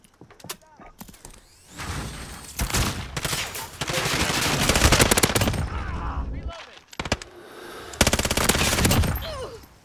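A Finn light machine gun in a video game fires long, loud, close bursts of rapid shots, broken by brief pauses, with a voice speaking faintly underneath.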